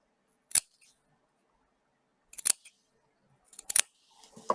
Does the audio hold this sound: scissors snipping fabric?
yes